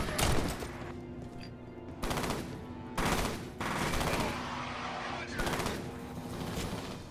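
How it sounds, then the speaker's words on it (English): Bursts of automatic gunfire in a shooter video game, aimed at the player, come as several loud, rapid volleys spaced about a second apart, with steady background game noise in between. "Shit, who's shooting me?"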